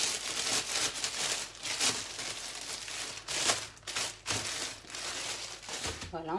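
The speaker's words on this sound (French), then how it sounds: "On va la mettre dans un sac plastique." A plastic bag crinkles and rustles in loud, uneven bursts as folded chebakia dough is slipped inside it in a home kitchen, close to the microphone.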